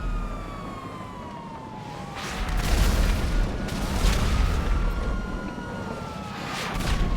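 Police car siren in a video game, a loud wailing tone sweeping up and down continuously, with a rumbling low background beneath it.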